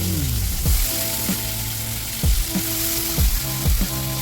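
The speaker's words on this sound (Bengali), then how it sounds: "সেই একই তেলের মধ্যে একটুখানি তেল দিয়ে তারপর আলুকে ভাজা বসিয়ে দেওয়া হয়েছে" Potatoes sizzle steadily in oil left from frying fish, close by, with a few sharp clanks from a utensil stirring the pan.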